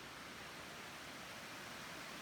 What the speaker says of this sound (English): Be able to fall asleep to the sound of the creek